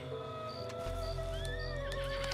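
Horse in Red Dead Redemption 2 Online, neighing in a shaky, high whinny over a steady low game hum, with a few hoof clops and faint game sound effects.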